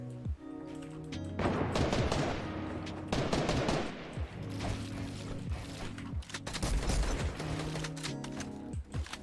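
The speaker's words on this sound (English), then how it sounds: "I missed 2 easy shots." Rapid bursts of gunfire in the Fortnite video game, repeated loud volleys with mechanical clicking between shots, heard without talk.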